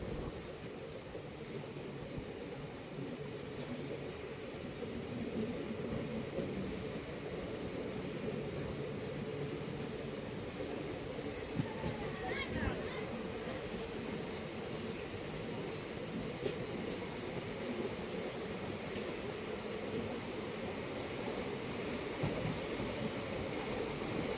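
Passenger train Wodeyar Express running from Mysore to Bangalore, heard as a steady, moderately loud rumble and rolling rail noise throughout, with a few faint clacks and no talk.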